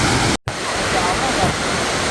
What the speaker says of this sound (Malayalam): അതിൻ്റെ താഴെക്കൂടെ മേലരുവി വാട്ടർഫോൾസ് ഒഴുകി വരുന്നു.